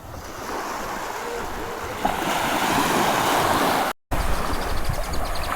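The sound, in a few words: ocean waves on a beach in Colombia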